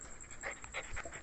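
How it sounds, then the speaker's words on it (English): A pet dog pants close by in quick, soft breathy bursts, four or five short huffs in a row. "Dog ko yan."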